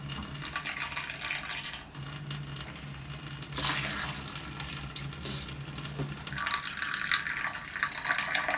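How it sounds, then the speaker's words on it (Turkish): Water runs steadily from a kitchen tap while dishes are being washed, with soft splashes and the occasional clink over the continuous flow. "Su mu dolduruyorsun?"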